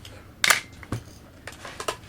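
A Pentax K1000 35mm film SLR fires its mechanical shutter up close, one sharp click followed by a softer second click, then a few fainter clicks and handling sounds.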